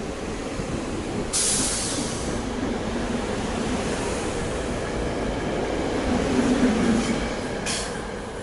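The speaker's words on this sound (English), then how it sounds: "This 3-car passenger train won't have very far to go to reach the end of the line at West Trenton." A three-car passenger train departs and rumbles steadily past near the Delaware River on the CSX Trenton Subdivision, with brief high wheel squeals and a continuous rolling roar throughout, fairly close.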